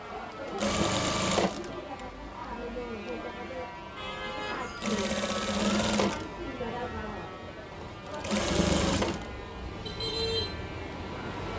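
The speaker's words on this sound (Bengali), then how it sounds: "এটা টেনে টেনে সেলাই করতে হবে যাতে ঘোচায় না থাকে।" A sewing machine stitches a Punjabi garment panel, running in three rapid buzzing bursts separated by short pauses, loud and close, with faint talk beneath.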